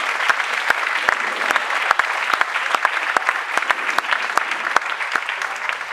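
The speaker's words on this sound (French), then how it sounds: "Normalement, à ce moment-là, vous êtes censé applaudir" At a magic show, an audience applauds steadily, with dense clapping and sharper individual claps standing out, fairly close and sustained throughout.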